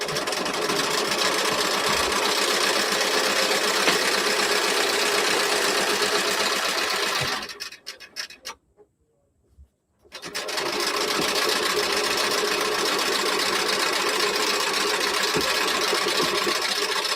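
A sewing machine runs a straight quarter-inch seam down the side pieces of an appliqué T-shirt. The close, steady motor buzz stops for about two seconds partway through, then starts again and keeps running.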